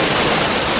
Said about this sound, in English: rain from the cloud forests send over 200 billion metric tons of water thundering down the valleys